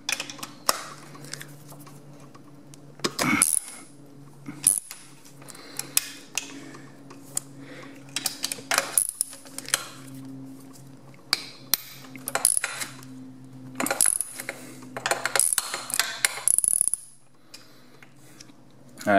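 Bolts on a dirt bike being loosened with a wrench in a crisscross pattern, giving repeated close metallic ratcheting clicks and clanks in short bursts between pauses, over a low background hum.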